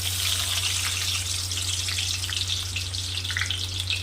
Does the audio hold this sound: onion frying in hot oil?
yes